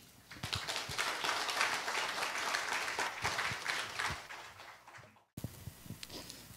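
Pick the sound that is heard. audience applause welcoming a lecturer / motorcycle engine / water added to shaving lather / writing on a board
audience applause welcoming a lecturer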